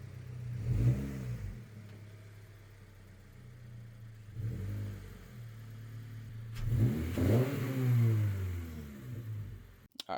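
A car rolls into a home garage with its engine rising and falling in three medium-pitched surges, moderately close and with no talking.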